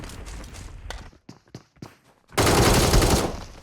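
Shotgun fire in PUBG Mobile on the Livik map: scattered sharp shots early on, then a loud dense burst of gunfire that fills the last second and a half.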